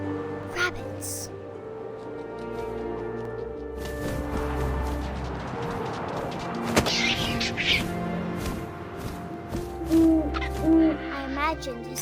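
An owl hoots repeatedly in What Remains of Edith Finch, distinct low calls over a dark ambient bed with thumps and rustles, while a voice narrates over part of it.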